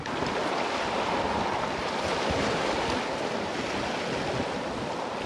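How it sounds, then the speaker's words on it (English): Strong, steady wind rushes at the seashore on Kos island in March, a dense continuous roar with surf mixed in and buffeting against the microphone, with no voices. "but the wind seems to be persisting."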